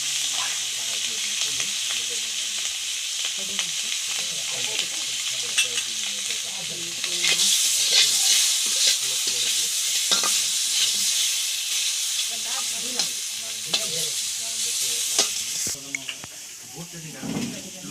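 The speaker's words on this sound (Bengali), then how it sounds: "কই মাছ ভাজবো।" Koi fish fry in a pan with a loud, constant sizzle and hiss, broken by intermittent stirring and clattering, while people talk nearby.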